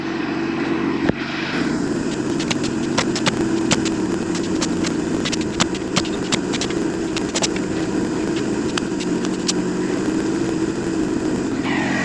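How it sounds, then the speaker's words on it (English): An air compressor runs off an Anker SOLIX F3800 power station, a steady, loud motor drone with a throbbing low hum and rapid faint clicks throughout, close by and without talk. "Air compressor kept up just fine."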